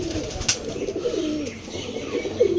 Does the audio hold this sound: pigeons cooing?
yes